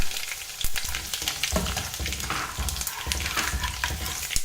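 Mustard seeds crackle and pop in hot oil alongside frying chillies for a gongura chutney, a loud close sizzle scattered with sharp spluttering bursts and a few stirring scrapes.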